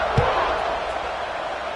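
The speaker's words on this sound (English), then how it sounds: "this crowd is buzzing after that last score" Stadium crowd noise from the College Football 26 video game, a steady broad roar of a large crowd buzzing after a touchdown, with a brief thump near the start and no talk over it.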